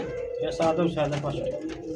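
A pair of pigeons offered for sale at a Bengali pigeon market coo steadily throughout, low rolling calls under a voice talking over them.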